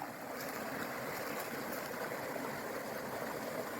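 Steady rushing water from a flowing stream, a continuous broadband wash with no pauses.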